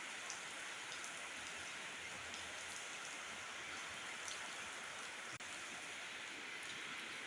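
Steady rain pours over a schoolyard area in Luang Namtha, a dense even hiss of drops on surfaces that holds constant throughout, with no voices.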